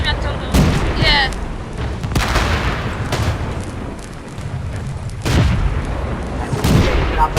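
Tank cannon shots and explosions in the video game World of Tanks: several heavy booms with rumbling tails spread through the stretch over steady battle noise, while players talk.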